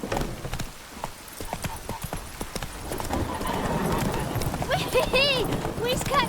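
Roach the horse gallops in The Witcher 3 with a steady drumming of hooves under a voice, while music and other game sounds swell in later with a whinnying tone.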